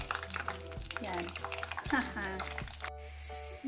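Doughnuts fry in hot oil with a steady, close crackling sizzle and small stirring clinks, continuing without a break.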